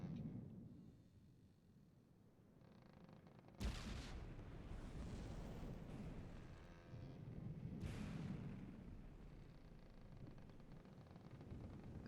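Deep booming cannon fire aimed at a sinking ship in a Minecraft game, two heavy blasts rising out of a dense rumbling roar of steady noise, no talking.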